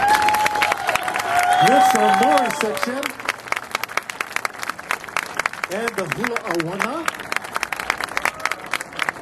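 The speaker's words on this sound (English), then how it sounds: "please round of applause for our girls" Audience applause and cheering for hula and Tahitian dancers at a Polynesian dance show, a steady crowd wash running beneath an announcer's amplified voice throughout.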